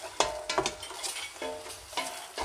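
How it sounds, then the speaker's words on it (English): Red curry paste is stirred in a pan of coconut milk for a Thai chicken and pumpkin curry, giving soft close clinks and scrapes of a utensil against the pan over a faint sizzle. "then you can add in your curry paste. And just give it a stir around."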